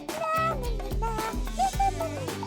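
A cartoon cat in a fairy dress-up game meows a few times, bright and close, over busy background music.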